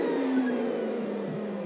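Vacuum cleaner with a clogged filter running steadily close by, a strained, even droning whine that stays alone throughout.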